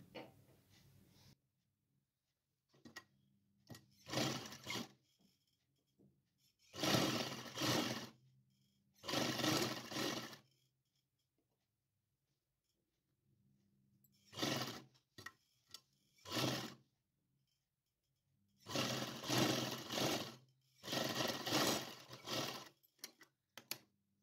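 Sewing machine stitching the bottom hem of small doll pants for a Laddu Gopal winter night dress, several bursts of rapid mechanical whirring separated by silent pauses, close and clear with no talking.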